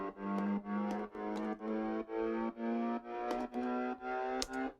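A distorted synth tone raised by Logic's stock pitch fader for a climbing tension effect in an electronic dance track, pulsing in regular rhythmic chops that rise gradually over several seconds, close and upfront.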